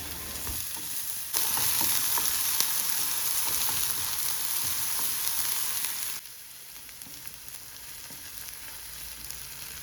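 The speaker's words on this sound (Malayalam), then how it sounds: "ഇനി ഒരു പാത്രം അടുപ്പത്ത് വെച്ച് ചൂടാകുമ്പോൾ കുറച്ച് എണ്ണ ഒഴിച്ച് കൊടുക്കാം. ഇതിലേക്ക് നമുക്ക് അരിഞ്ഞു വെച്ച സവാള ഇട്ട് കൊടുക്കാം." Chopped onions hit hot oil in a pan and sizzle loudly for several seconds, then the frying settles to a softer, steady hiss.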